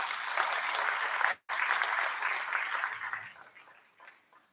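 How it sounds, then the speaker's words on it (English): Audience at a secondary school Grade 12 awards ceremony breaks into applause, dense clapping with a brief cut, then thinning to scattered claps as it fades out. "They deserve a round of applause."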